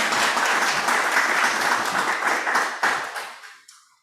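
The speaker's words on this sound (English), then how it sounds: "How about a round of applause?" Warm round of applause at a Rotary Club weekly meeting, dense clapping from a modest group that tapers off with a few scattered last claps into silence.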